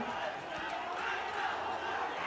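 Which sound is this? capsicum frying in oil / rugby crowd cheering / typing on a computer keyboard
rugby crowd cheering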